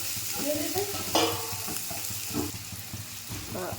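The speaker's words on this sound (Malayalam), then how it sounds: "സവാളയും പച്ചമുളകും ഇട്ട് സവാളയും പച്ചമുളകും നല്ലോണം വഴറ്റിയിട്ട്" Sliced onions and green chillies sautéing in a pan, a soft continuous sizzle broken by a few clattering stirs and spatula scrapes, close and moderately loud.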